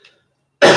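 A single loud cough bursts out abruptly after a brief silence, close to the microphone.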